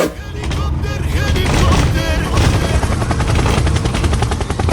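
Loud, continuous rumbling drone inside a bus on a ride in Taiwan, a heavy thudding clatter likened to a helicopter, steady and close throughout without a break.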